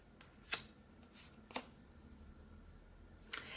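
Tarot cards being shuffled by hand, with a few short, crisp riffling bursts spaced apart over a quiet background.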